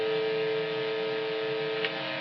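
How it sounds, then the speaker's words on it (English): A tiny Tesla coil kit gives off a steady, faint high-pitched buzzing hum that stays even throughout, with one brief flicker near the end and no voices. "This is actually a tiny little Tesla coil in here."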